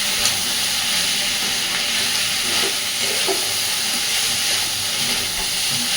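Ripe Malabar spinach fruit frying in a pan, a dense, even hiss and sizzle that holds close and steady throughout with a few faint scrapes and no voices.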